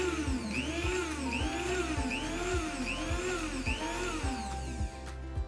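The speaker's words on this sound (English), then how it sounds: "Now I'm gonna blend it up again in my coffee grinder." A coffee grinder whirring in loud pulsing cycles as it blends homemade natural foundation powder, a rhythmic rising-and-falling mechanical whine close by, no speech.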